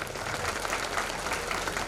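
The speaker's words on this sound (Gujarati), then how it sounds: "એ લોકો માટે એક જોરદાર તાળીઓ મારો." Audience applause at a Patidar community general meeting, a steady, dense burst of many hands clapping together, close and sustained throughout.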